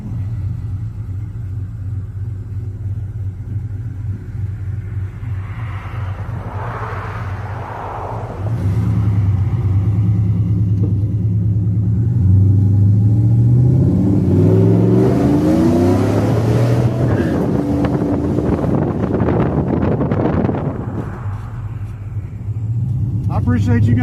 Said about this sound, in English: We've got some traffic.